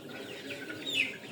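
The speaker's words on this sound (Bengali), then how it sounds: "এখানে আরেকটা বাচ্চা ডাকতেছে" A Sonali hybrid chick on a 29-day-old poultry farm gives a single faint, high peeping call near the end, over a low background of farm noise and distant clucking.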